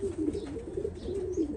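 An inbred racing pigeon coos close by in a soft, continuous throaty warble with a rolling rhythm, alone and fairly quiet.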